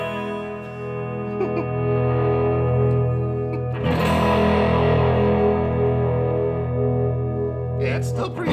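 Electric guitar run through a Walrus Envy effects pedal, sustained distorted chords ringing with chorus and echo, then a sharp new strum midway that decays slowly, loud and alone.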